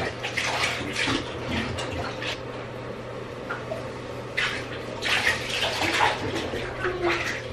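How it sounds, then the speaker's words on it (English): Water runs steadily into a home bathtub as a child's bath is drawn at night, a broad continuous rush with occasional louder surges and faint household voices in the background. "Okay, Roman's in the bath."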